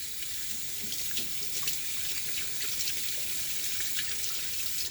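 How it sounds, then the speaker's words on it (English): Water runs steadily from a tap, rinsing shaving soap suds off a hand at a bathroom sink, a continuous close splashing hiss with no pauses. "Just rinsing my hand off there from all the suds."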